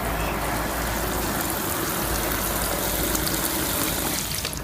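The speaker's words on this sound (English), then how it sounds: "Be nice and confident with the watering can." A large watering can pours a steady, continuous stream of water onto garden soil at close range, with an even rushing gush that holds level from start to finish and no talk.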